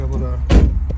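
The convertible top of a white 2009 Porsche Carrera 4S with tan interior closes under power, a low mechanical hum with a sharp thud of the top seating midway through, heard up close.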